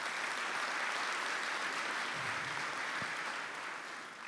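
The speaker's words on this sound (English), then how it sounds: "So round of applause for them." Conference audience gives a steady round of applause, a continuous wash of many hands clapping at moderate distance that tapers slightly at the end.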